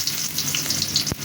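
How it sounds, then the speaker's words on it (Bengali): Onions frying in hot oil in a pan, a steady close sizzle with faint crackle throughout and one brief low thump near the end, no voices. "এখানে পেঁয়াজটা হালকা বাদামি রং করে ভেজে নেব।"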